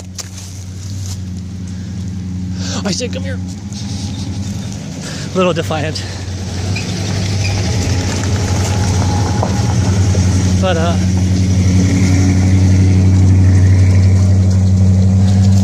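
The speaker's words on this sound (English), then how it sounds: "Here comes a car." A car approaches on a road near a beach and grows steadily louder, its engine rumble swelling toward the end while a person speaks over it and a dog's collar or small clinks sound in between.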